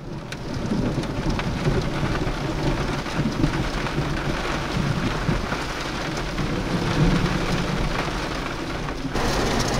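Heavy rain pours steadily through a night thunderstorm, with low rumbling thunder rolling beneath the constant downpour, loud and close throughout, without talk.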